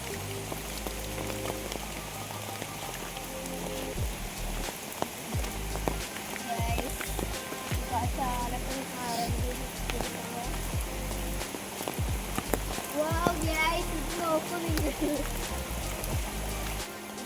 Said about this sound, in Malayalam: ഈ കുളത്തിൻ്റെ വെള്ളമാണ് ഈ ഒഴുകി പോണത് കേട്ടോ